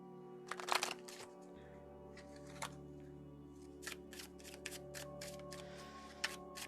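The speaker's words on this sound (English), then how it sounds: "Let's get some romance angels cards here. I'm going to go ahead and shuffle these up as well." Romance angel oracle cards being shuffled by hand, a run of soft papery riffles and taps in close, quiet bursts over a faint steady hum.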